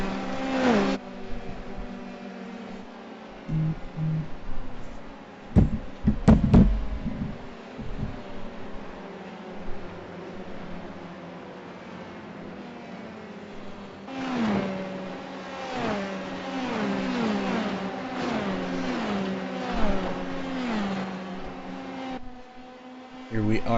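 Racing-game Formula cars at the British Grand Prix, engines whining and revving in rising and falling tones as the pack runs close together, continuous under steady commentary.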